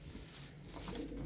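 Pigeons coo softly in a short, faint burst of low murmuring calls over background hum.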